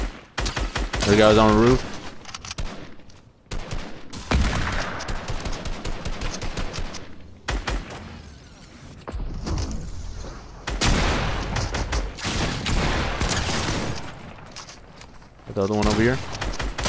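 Sustained gunfire in Fortnite Chapter 5 Season 3 Reload, with repeated loud automatic bursts and scattered single shots over nearly seventeen seconds, as players talk throughout.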